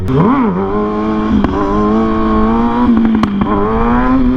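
A 600cc sport motorcycle engine revs and holds a steady throttle during a wheelie, a loud, close, droning exhaust note that dips and settles with light mechanical clatter and wind buffeting, no speech.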